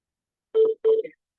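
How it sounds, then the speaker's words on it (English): Two short electronic telephone tones sound one after the other on a radio call-in show, loud and clean against silence. "I have a phone call."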